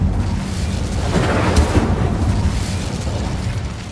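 An Incendio fire spell goes off in the video game Hogwarts Legacy, a steady roaring, rumbling burst of flame that fills the full four seconds at close range and high volume.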